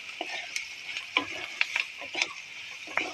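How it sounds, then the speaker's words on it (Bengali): A utensil stirs cumin powder and salt in a pan, giving a run of soft scrapes and sharp clicks at an irregular rhythm, close by and fairly quiet, with no talking. "একটু জিরে গুঁড়ো দিলাম, একটু নুন দিলাম, দিয়ে এটাকে ভালো করে নেড়ে নিলাম"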